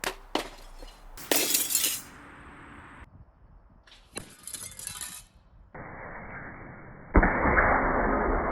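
An arrow fired from a bow strikes thin computer monitor glass: a series of sharp, loud impact cracks and clatters, then bursts of broadband hiss, ending in a loud sustained rush of noise.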